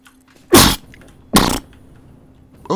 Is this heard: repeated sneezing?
yes